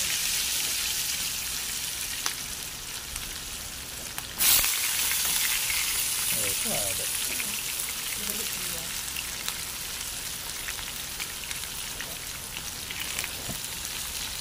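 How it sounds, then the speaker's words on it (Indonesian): Tempeh and potatoes sizzle in hot oil at Bukit Satus Camping Ground in Subang during rain, a loud continuous crackle with a brief clatter partway through and a short spoken remark. "Ini ada tempe goreng, kita mau goreng"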